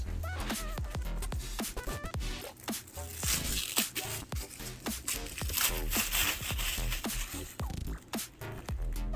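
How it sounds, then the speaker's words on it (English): Plastic packaging rustles and crinkles as a new realistic boy doll's arms are unwrapped, with repeated close scrapes, tearing bursts and small clicks. "We'll unwrap his arms."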